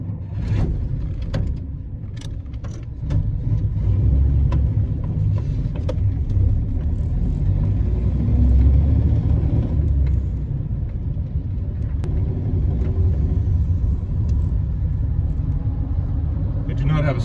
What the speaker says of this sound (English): So you'll hear me shift through 3 gears, and then I'll let my foot off the gas and just coast right nicely into overdrive